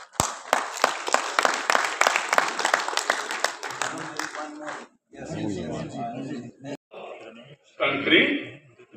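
An audience applauds at a journal meet, a burst of brisk, fairly close clapping that fades after about four seconds, followed by a speaker's voice and a brief swell of laughter or cheering.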